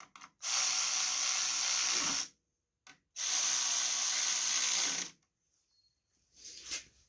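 Ratchet wrench tightening bolts on the starter of a 2002 Craftsman riding lawn mower, heard as two long, loud bursts of rapid clicking separated by a pause, with a shorter, fainter burst near the end.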